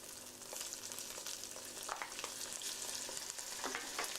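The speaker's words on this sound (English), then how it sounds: "And stir it quickly and lower the heat down." Ginger, garlic and tomato paste fry in a pan while being stirred quickly, a steady soft sizzle with faint scraping and clinks of the spoon throughout.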